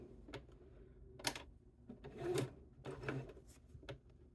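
A hand-crank sewing machine stitching around the curved corner of a wallet pocket makes soft, close, irregular mechanical clicks and thumps, a few short bursts separated by quiet pauses.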